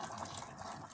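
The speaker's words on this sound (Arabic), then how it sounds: "غادي نروي نديروا الماء" Water pours steadily into a cooking pot of traditional Moroccan rfissa with chicken and onion, a continuous close splashing gush with no talk.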